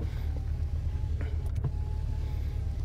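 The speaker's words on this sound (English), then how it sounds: "It has a rear window in the back. This is the button to open and close that." The power rear window of a 2019 Chevrolet Silverado 1500 High Country runs on its electric motor, a steady low whirring hum inside the cab that continues throughout, with a couple of faint clicks partway.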